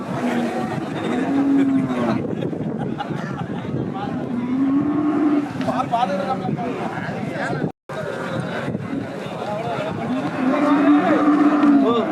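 Cattle moo repeatedly at the busy Pavoorchatram cattle market, long low calls rising over constant crowd chatter and people talking nearby, loud and close throughout.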